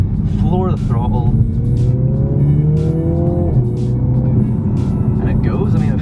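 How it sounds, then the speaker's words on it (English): A John Cooper Works Mini Countryman is floored in second gear, its engine note rising steadily under hard acceleration, loud and close from inside the cabin, with a voice talking over it. "in second gear, a little bit of a straight, just tootling along, floor the throttle"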